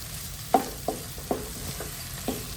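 Stuffed bitter gourd masala frying in a pan, with five or six close scraping knocks of a spoon at an uneven beat over a soft background sizzle.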